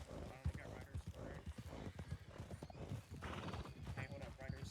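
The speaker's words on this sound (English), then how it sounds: "I heard a wagon and it sounded like a whole lot of horses." Horses pulling a wagon in a western roleplay video game: clip-clopping hooves and a neigh, faint and somewhat distant, heard beneath people talking.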